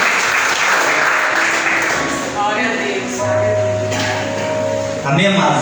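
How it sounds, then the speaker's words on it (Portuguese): Church congregation clapping during an evangelical service for couples, a dense wash of applause mixed with voices and music, loud and continuous. "E as palmas louvam e engrandecem o nome do Senhor"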